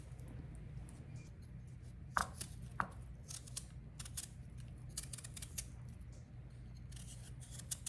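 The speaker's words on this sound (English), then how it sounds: "we're going to skin them and chop them" Potatoes for a roast dinner are skinned and chopped by hand in a quiet kitchen, with soft repeated cutting and scraping clicks in an irregular rhythm, close and faint, plus a couple of sharper knocks.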